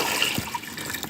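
About 1,200 ml of water pours into a pot of cassava for binignit, a steady splashing wash of liquid heard up close with no voices.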